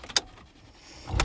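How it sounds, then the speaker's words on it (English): A car window being rolled down on a hot day, a short click followed by a soft whir and another clack as the glass moves, quiet and close. "This is like rolling down the window, rolling out the windows."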